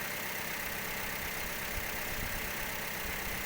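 A Toyota Vios engine idling shortly after starting, a steady, continuous mid-to-low hum with a faint uneven pulse, close and unchanging throughout with no voices.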